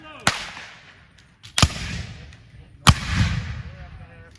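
Three sharp musket volleys crack out at a Civil War fort re-enactment, spaced about a second apart, each loud blast trailing into a rumbling echo with no talk between.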